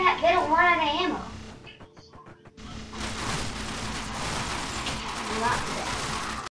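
Bursts of game gunfire from the shooter Murder Miners, dense rapid shots that rumble on after a brief pause, with excited young voices talking over the start.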